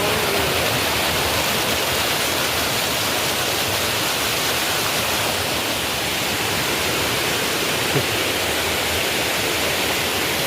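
Jangal Dev waterfall at Dhamapur roars in a steady, dense rush of falling water, loud and unbroken throughout with no other sounds standing out.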